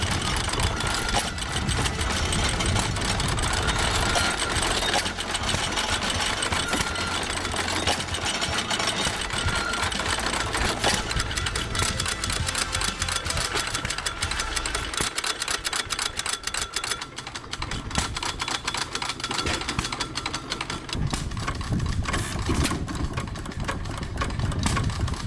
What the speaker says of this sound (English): And this one's Aero Motors auxiliary windmill engine.